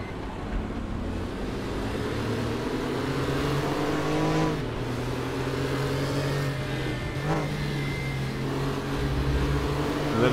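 Porsche Carrera Cup 964 race cars in the Raceroom sim racing game roar continuously with rising and falling engine pitch as several cars run together in a line, loud and close with no talk.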